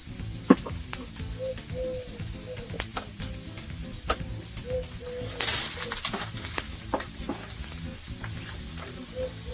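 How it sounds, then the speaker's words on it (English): Diced onions and peppers sizzle steadily in a hot pan as kabob fixings soften, a continuous close frying hiss with occasional stirring clicks and a brief louder burst midway, no talking. "I've got some diced onions, diced peppers. Let's get those going in the pan to soften up."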